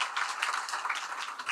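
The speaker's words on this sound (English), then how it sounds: "can we give a big round of applause for all the authors?" Audience applause for the authors at a higher-education conference session, a dense, even patter of many hands heard from within the room, continuous throughout without talk.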